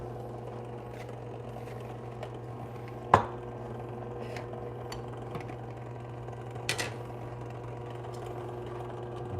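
A Fellow Ode Gen 2 coffee grinder grinds a 13-gram dose of beans, giving a steady droning motor hum with a faint whirring texture, plus a couple of sharp clicks along the way. No one speaks.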